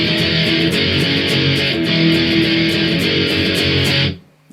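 Guitar strums the verse B part of a song with a chord change midway, a steady, dense, driving pattern with regular accents, close and loud, stopping abruptly at the end.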